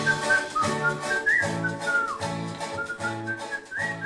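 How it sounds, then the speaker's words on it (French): Someone whistles a Jean Ferrat song melody alone, with clear, tuneful notes that rise and fall in a steady phrase at close range. "Parce qu'il faut siffler."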